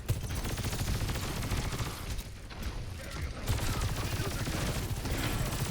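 Gunfire in the video game Overwatch 2 while playing Sojourn: dense, rapid bursts of shots crackle almost nonstop at steady loudness, briefly easing in the middle.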